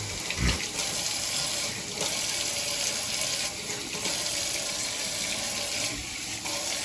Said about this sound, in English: I just get a little bit of hot water going just to put in there